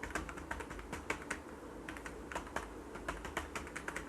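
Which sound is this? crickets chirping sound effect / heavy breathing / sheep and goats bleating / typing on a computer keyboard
typing on a computer keyboard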